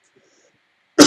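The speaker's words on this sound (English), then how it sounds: "I'm coughing my guts up." One sharp cough bursts out near the end after near silence, close and loud.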